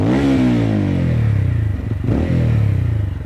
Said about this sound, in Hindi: इसका एग्जॉस्ट काफ़ी बढ़िया लगा मुझे। इस सेगमेंट के हिसाब से सुनाता हूँ।